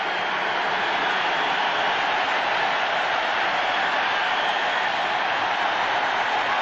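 Steady broad roar of a football stadium crowd at a 1985 NFL game between the Atlanta Falcons and Seattle Seahawks in Seattle, a continuous wash of massed voices with no distinct cheers or breaks.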